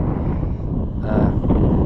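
Wind blowing outdoors beside a Troy-Bilt garden tiller, a steady broad rush buffeting the microphone that swells louder in the second half, with no voices.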